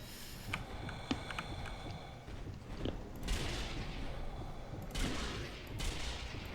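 Gunfire at zombies in the Zombie Army Trilogy shooter, sounding as a dense, continuous fusillade of shots with louder bursts rolling through the middle and end, loud and close throughout.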